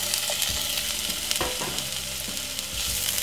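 Frankfurters frying in hot oil in a pan, a loud, steady sizzle throughout with occasional small crackles and pops, close up and with no voices.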